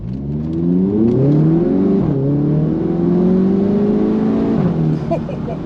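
A light performance car fitted with a Racingline R600 airbox accelerates hard from a standing start in light rain, its engine rising in pitch through a gear change with a brief dip, loud and close throughout.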